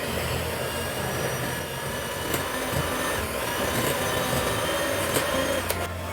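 An electric stand or hand mixer whirs continuously at a loud, steady pitch while beating sugar and a second ingredient into a pale cream, with a few small clicks and knocks of the beaters.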